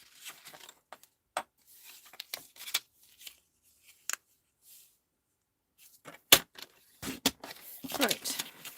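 Card stock being cut in half for a handmade card's belly band: scattered short, crisp snips and clicks with quiet gaps between them, close and fairly soft.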